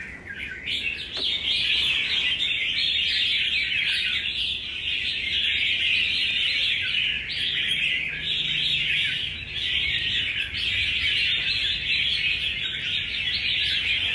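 Songbirds chirp and tweet continuously in a sustained, dense stream of high calls during a bird fight, steady and close throughout with no voices.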